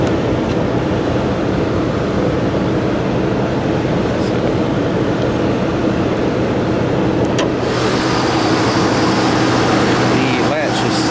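A 2015 Ford F-150 XLT crew cab 4WD pickup's 5.0 liter V8 idles with a loud, steady rumble, heard up close and continuous, with a person speaking over it.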